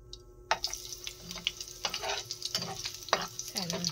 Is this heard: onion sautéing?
yes